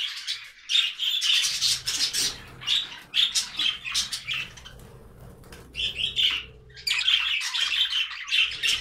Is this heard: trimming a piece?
no